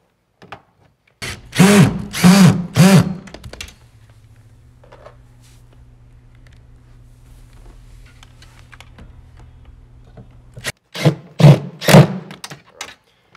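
A power drill drives screws into a bracket on a home theater seat in two short, loud whirring bursts, with a quiet stretch of faint handling noise between them.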